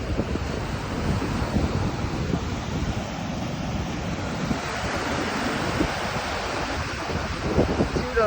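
Rough sea waves crash and roll continuously in gale force winds near a lighthouse, with steady broadband surf and wind buffeting the microphone throughout.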